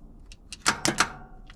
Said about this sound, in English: we got some starter clicking action